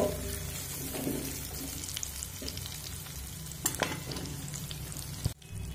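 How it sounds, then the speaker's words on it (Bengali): Prawns fry in hot oil with a dense, continuous sizzle and occasional spatula scrapes and clinks, the sound cutting off abruptly near the end as the pan goes quiet. "দেখুন চিংড়ি মাছ আমি ভেজে নিয়েছি"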